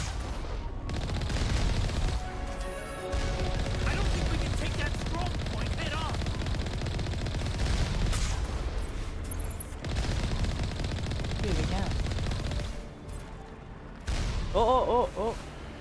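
Gunfire in Mass Effect Legendary Edition, with dense, sustained bursts of automatic weapons fire and loud impacts rattling on almost without pause, a voice speaking over the shooting.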